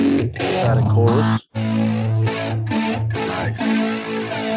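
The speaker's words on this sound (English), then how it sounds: "Let's add a chorus." Chorus effect from a free VST plugin added to a distorted instrument signal chained with a 1176-style compressor, phaser, tape echo and reverb, giving a thick, wavering, shimmering tone that plays loud and steady with a brief dropout.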